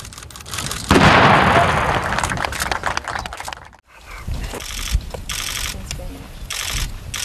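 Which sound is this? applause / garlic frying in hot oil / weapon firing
weapon firing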